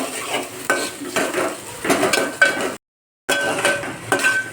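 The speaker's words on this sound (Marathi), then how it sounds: "आता आपण याला कांद्याला लाल होईस्तोवर चांगला परतून घेऊया" Onions are sautéed and stirred in a pan for an Agri-style dried shrimp dish, with a continuous close sizzle and scraping, clinking spoon strokes, broken by a brief silent gap.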